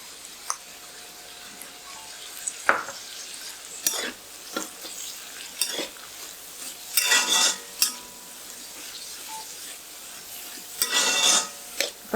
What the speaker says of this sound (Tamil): அந்த எண்ணெயிலே வதங்கும் போது கொஞ்சம் வெந்துடும்.